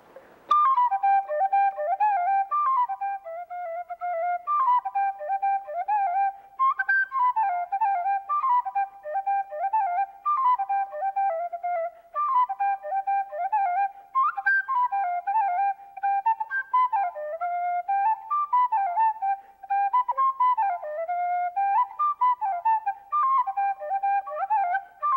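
Tin whistle plays a traditional Irish tune solo, a bright, steady melody with quick ornamented runs continuing for the whole stretch with no talking.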